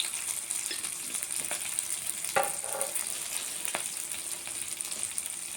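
Cumin seeds fry in hot oil in a pan for a Telugu pachadi chutney, giving a steady, close crackling sizzle with a few sharper pops, heard alone without talk.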